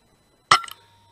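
A single sharp report from a BSA R10 SE air rifle fired outdoors at a grey squirrel, a short crack with a faint metallic ring afterward, isolated against near silence.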